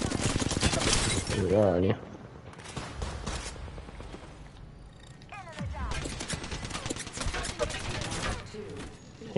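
Video game gunfire crackles in rapid bursts through a noisy firefight, with a louder stretch early on and more shots later, mostly beneath someone talking.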